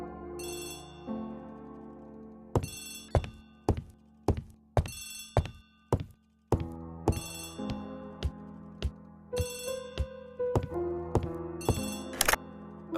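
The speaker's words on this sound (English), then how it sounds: "Poirot, the telephone." A ringing telephone in a 1930s English detective drama setting, sounding in repeated sharp bursts over a quiet background of low music, loud and close with short gaps between rings.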